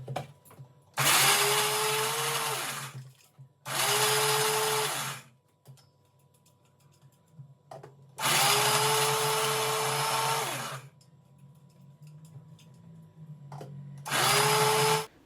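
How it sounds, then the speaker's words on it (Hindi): Mixer grinder pulverizing fried baati into fine powder, running in four loud whirring bursts of a few seconds each separated by short pauses, close and alone. "इसके बाद आप मिक्सर जार में डाल के इसको ग्राइंड कर लीजिएगा, एकदम फाइन पाउडर आपको बना के तैयार करना है।"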